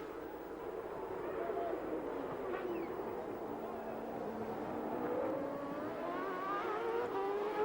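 Formula 1 race cars of the 1990 season roaring around the circuit, a steady loud engine drone with shifting pitch as cars chase each other lap after lap, a continuous wash of motor noise without a break.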